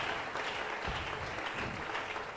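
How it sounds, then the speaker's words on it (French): A church congregation applauds during a sermon, a dense, steady wash of clapping that holds evenly throughout, moderately distant. "Est-ce que nous pouvons acclamer encore?"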